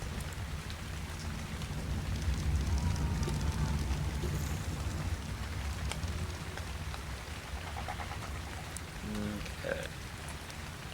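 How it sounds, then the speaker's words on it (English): Steady rain falls outside, a dense continuous patter on surfaces heard close and moderately loud, with a brief spoken word near the end. "I would like very much for the rain to stop."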